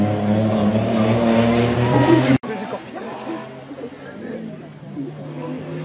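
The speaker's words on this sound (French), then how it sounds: "on voit le passage d'Alexis Flambard sur cette magnifique Ford Fiesta" A Ford Fiesta race car passes at a hill climb, a loud harmonic engine roar close by that cuts off abruptly, leaving a quieter rumble under a commentator's talk.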